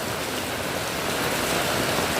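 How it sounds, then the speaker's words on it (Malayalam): Gentle steady rain falling outdoors with no wind or thunder, a dense, even hiss of drops spread across the whole moment. "നല്ല ശാന്തമായ ഒരു മഴയാണ്"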